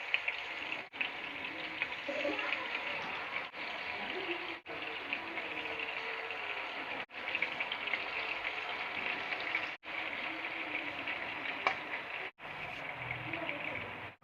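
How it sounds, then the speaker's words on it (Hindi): Chicken tikka pieces frying in hot oil in a pan give off a steady, moderate sizzle with a soft bubbling hiss that runs continuously, broken only by a few brief cuts. "अब हम इसको फ्राई होने देते हैं तकरीबन 5 मिनट के लिए"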